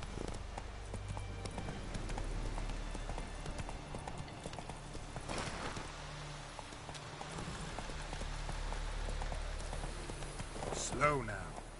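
Roach the horse trotting in The Witcher 3, hooves clip-clopping in a steady, fairly quiet rhythm over light rain-like patter, while a person talks faintly over it.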